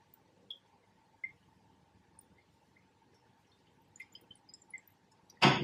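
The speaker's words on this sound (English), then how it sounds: "At the moment, I'm delivering one drop at a time." Single drops of titrant fall one at a time during an acid-base titration, faint separate ticks spaced about a second apart over a quiet background, ending with a louder, fuller splash of liquid.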